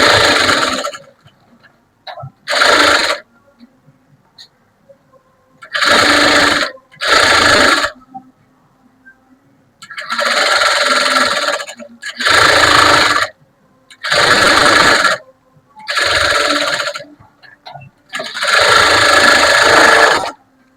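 A sewing machine stitches around a garment lining in repeated short bursts, about ten runs of whirring stitching separated by pauses, close and clear with no talk.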